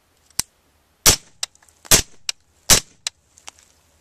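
Three suppressed rifle shots fired with Hornady 55 grain ammunition, each a sharp loud crack with a short decay, spaced under a second apart, with smaller clicks and thumps of handling between them.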